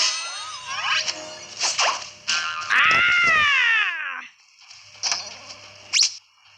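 A cartoon cat in a Tom and Jerry video game lets out a few meows, including one drawn-out wailing yowl in the middle, with game effects around it.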